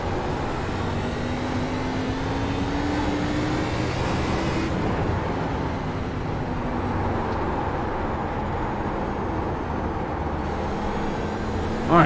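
A NASCAR Cup car's engine drones on the straightaway at USA Speedway in the iRacing game. A steady, loud motor roar holds a sustained pitch that rises and falls slightly over about twelve seconds, with no talking.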